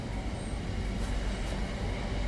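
Trains rolling past on a railway line in the north side of Sunderland, a steady loud rumble of wheels and carriages filling the air without a break, heard from nearby outdoors.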